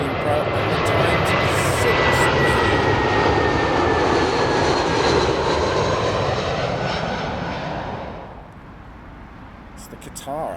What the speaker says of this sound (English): British Airways A320 from Krakow